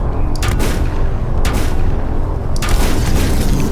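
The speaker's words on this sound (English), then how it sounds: "Oh, it's a turret." A turret fires in the steampunk survival game Volcanoids: three loud, booming blasts that land roughly a second apart, each one ringing out over a dense, steady rumble of background noise.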